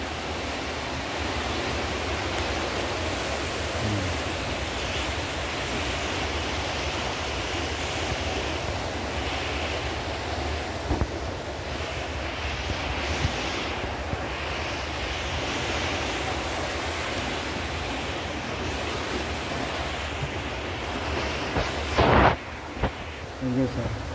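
Strong rushing water and waves churn steadily beneath a bridge at night, a loud, continuous broadband roar filling the whole stretch with occasional thumps near the end.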